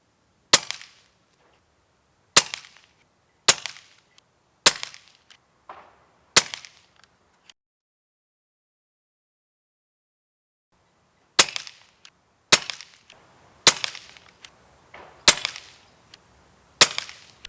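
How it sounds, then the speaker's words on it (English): Sharp, loud air rifle shots from an Umarex Notos Gen 2 fired at large targets, five evenly spaced cracks, a long pause, then five more, each with a short ringing tail and no talking. "And I'm going to shoot at the start of the large targets on the right side."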